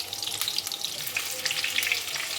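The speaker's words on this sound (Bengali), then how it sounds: "এই দেখো, এইভাবে চিকেন স্যাটেগুলো আমি একবার ভেজে নিচ্ছি" Chicken satay pieces sizzle steadily in hot oil in a wok, a dense, even crackle with small bursts of popping spattering throughout, close and continuous with no voices.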